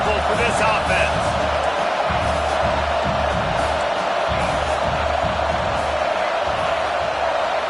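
A football stadium crowd roars steadily as a constant, loud wash of voices and cheering, with a commentator talking over it.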